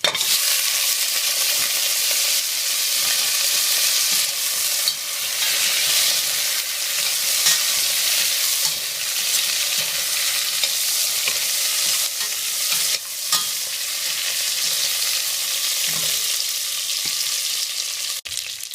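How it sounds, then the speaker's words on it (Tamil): Goat trotters frying in hot oil with ginger and garlic for attukal soup, giving a steady, loud sizzle with stirring scrapes throughout, close up and with no talking. "ஆட்டுக்கலையும் அந்த எண்ணெயில் போட்டுடலாம்"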